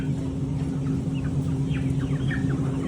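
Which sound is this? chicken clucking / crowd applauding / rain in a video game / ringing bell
chicken clucking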